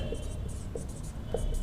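A pen writes out a maths formula on paper in a few short scratchy strokes, close and fairly quiet over a low steady background hum.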